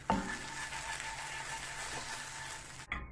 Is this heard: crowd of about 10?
no